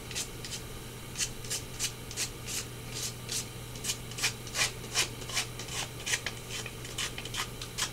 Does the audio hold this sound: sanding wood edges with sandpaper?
yes